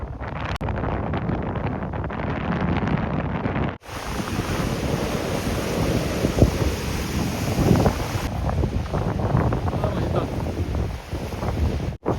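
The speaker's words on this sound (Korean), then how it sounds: "바람 소리가 엄청납니다." Strong gusty wind roars against the microphone by the East Sea along a rocky coastal trail near Gangneung, with surf churning underneath, loud and unbroken throughout.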